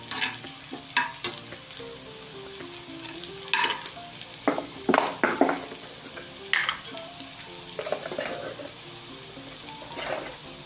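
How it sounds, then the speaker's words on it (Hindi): Onions frying and being stirred in a pan for aloo paratha filling, with a steady sizzle broken by repeated scraping stirs and clinks of a utensil, close and fairly loud, no talking. "हमने अपनी ये प्याज लाइट ब्राउन करनी है।"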